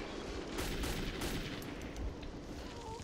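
Sustained bursts of enemy machine gun fire in the video game Metro 2033, a dense, continuous rattle of rapid shots at steady loudness across the whole stretch with no voices.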